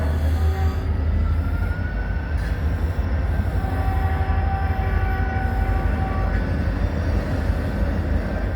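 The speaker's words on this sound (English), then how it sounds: "We got an Ohio Central train shoving some trash cars in the Newark yard." Ohio Central SD40-2 locomotives shoving trash cars through the Newark rail yard, a steady loud rumble of diesel engines and rolling wheels with faint squeals, continuous throughout and with no voices.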